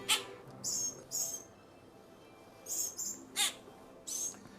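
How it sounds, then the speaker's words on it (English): Sharp, high squeaky calls and whistles from a grackle at a bird sanctuary, several bursts spaced irregularly over a low background hum. "This grackle is making a lot of noise in here."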